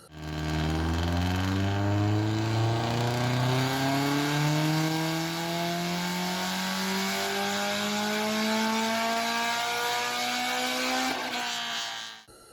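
A built Subaru WRX engine on a dyno pulls from low revs to a high-pitched peak in one long, loud, continuous sweep, then cuts off sharply near the end, with no voices.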